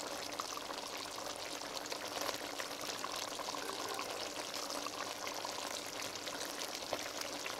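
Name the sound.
spooning curry sauce over fish in a pot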